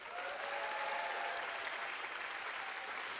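Steady, dense applause from an audience at the 21st BOH Cameronian Arts Awards, sustained at an even level from start to finish, with a faint murmur of voices mixed in.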